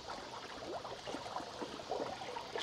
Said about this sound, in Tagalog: Tubig na lumalabas din.